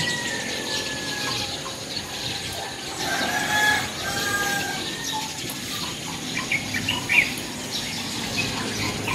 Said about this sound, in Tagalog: Maingay ng mga ibon.